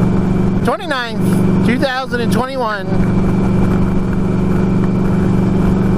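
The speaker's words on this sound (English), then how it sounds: "Started the bike up, worked great, and here I am out in the road" A motorcycle riding on a road in Chatham-Kent, Ontario, its engine a steady loud droning hum throughout while someone talks over it in the first half.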